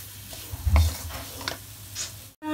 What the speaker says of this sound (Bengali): এবার মশলাও আমি আলুর সাথে ভালোভাবে মিশিয়ে নেব।